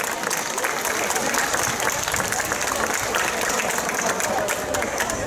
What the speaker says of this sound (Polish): Wielkie brawa, właśnie teraz Ryszard Stopa.